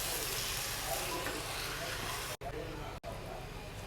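An eggplant curry with curd sizzles softly in a pan while being stirred, a steady close frying hiss broken by two brief pauses.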